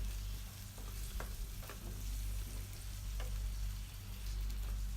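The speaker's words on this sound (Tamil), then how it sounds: "சிக்கனை சேர்த்துட்டு நல்லா 2 நிமிஷம் அதிலேயே வதக்குங்க." Chicken sautéing in a pan for a pepper chicken dish, a constant close sizzle with scattered scraping stir strokes over it, no talking.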